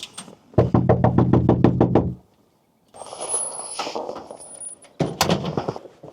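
A rapid burst of about eight sharp knocks on a door, close and loud, followed by a pause and then softer rustling, thuds and handling noises around the doorway.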